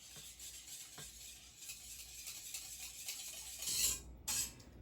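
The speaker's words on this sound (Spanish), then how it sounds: "Voy a mezclar la ketchup o la salsa capsu con el clamato" Ketchup is stirred into Clamato for a Mexican shrimp cocktail, making soft, close, wet swishing and scraping throughout, with a few brighter clinks and sloshes near the end.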